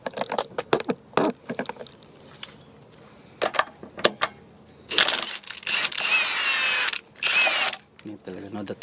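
Bursts from a power tool working the 22 mm lug nuts on a flat-tire wheel of a 2020 Jeep Wrangler Sahara 2.0L Unlimited, two sustained whirring runs after scattered clicks and knocks, close by.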